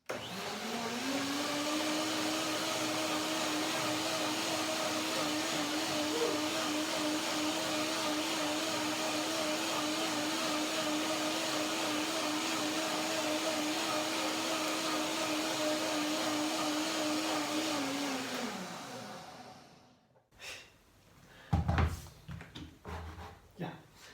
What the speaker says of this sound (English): And now I blend one more time. My smoothie.